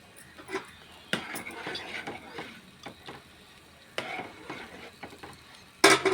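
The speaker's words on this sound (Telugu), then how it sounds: "మనం ఫ్రై చేసుకోవాలి." Country chicken egg curry fries in a pan while a spoon stirs it, giving soft scraping and clinking strokes over a low, steady sizzle, with a sharper metallic scrape at the end.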